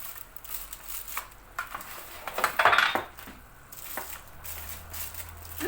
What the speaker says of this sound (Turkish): Bunu da aynı şekilde fırın tepsimizi alıyoruz.